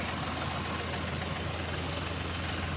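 A tractor engine idles steadily close by, a constant loud rumble with a knocking pulse and no talk over it.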